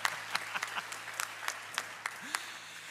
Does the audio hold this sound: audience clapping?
yes